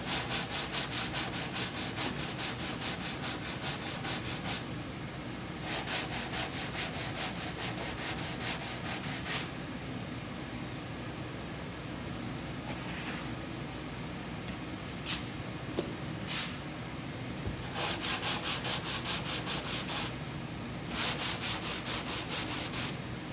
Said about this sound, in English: It's always best to stop quick before you over sand it